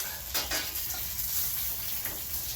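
Pan-fried tuna patties crackle and sizzle in a frying pan as they are flipped, with a few soft scraping and clattering touches from the spatula over the continuous frying hiss.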